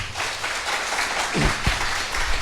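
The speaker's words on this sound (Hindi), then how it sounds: "एक अच्छी ताली बजा के प्रभु को धन्यवाद देंगे" Congregation clapping at a Christian worship gathering to thank God, a brief dense burst of applause with a low thump or two underneath.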